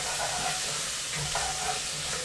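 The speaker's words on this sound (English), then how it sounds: "I'm still trying to brown my onions" Onions browning in a pan, a steady soft sizzle and fry with faint stirring clicks, close and continuous with no voices.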